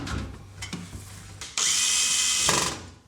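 Power tool driving screws into the back panel of a Siemens washing machine, a few quiet clicks and handling noises, then one loud, close, sustained whir lasting about a second before stopping.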